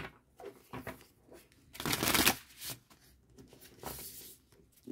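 Tarot cards are shuffled by hand for a weekly reading, close and soft, in a few short papery riffles with one longer, louder burst in the middle.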